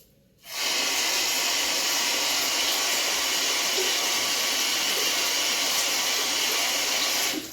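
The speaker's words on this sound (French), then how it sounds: "Je vais rincer l'oignon." Running water from a tap pours steadily and loudly as an onion is rinsed, a constant rushing hiss that starts abruptly and continues unbroken.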